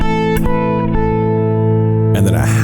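An electric guitar phrase of sustained, effects-laden notes with a short neighbor-tone move on the root, thick and loud, with a new chord struck near the end.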